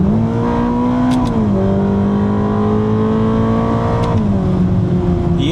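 A 2026 Ferrari V8 with an 8-speed gearbox pulls steadily under load on a drive in Portugal, its droning engine note loud and close, with quick gearshift dips in pitch.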